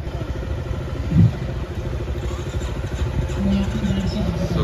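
Motorcycles idle and creep along at low speed during a slow-biking race at a bikers festival in Murud, Raigad, with a steady low engine rumble, a brief clatter near the start, and faint voices in the background.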